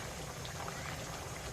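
Agri-style jitada fish curry bubbles at a rolling boil in a pot, a soft, continuous fizzing and popping that stays faint and close, with no talk over it.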